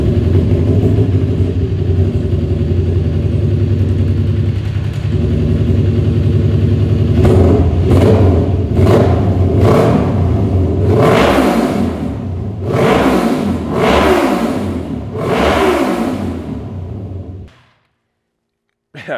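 A Kawasaki Ninja 400 sport motorcycle fitted with an M4 exhaust idles with a steady rumble, then is revved in a string of loud, sharp throttle blips that rise and fall close by before the engine cuts off.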